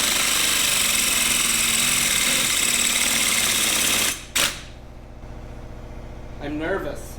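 A power drill whirs steadily and loudly for about four seconds, then stops abruptly, followed by quiet room tone and a brief voice.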